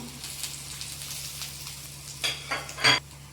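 Ground cinnamon, clove and cardamom dropped into hot oil for a chicken gravy give a soft, steady sizzle under a low hum, with a few louder crackling bursts near the end.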